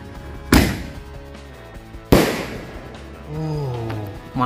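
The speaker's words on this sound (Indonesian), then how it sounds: "Mercon Bola Launcher mini." A mini ball firecracker launcher, the Mercon Bola Launcher mini, fires during a Chinese New Year fireworks session: two sharp, loud bangs about a second and a half apart, each trailing into crackle, followed by a rising whistling tone.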